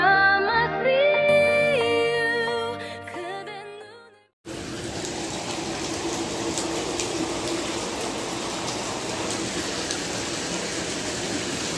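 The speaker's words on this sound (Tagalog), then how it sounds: "Malakas po ang ulan dito. Sobrang lakas." Heavy rain pours steadily at a Hong Kong public market, a dense unbroken hiss that starts abruptly after a stretch of music and continues loud and even to the end.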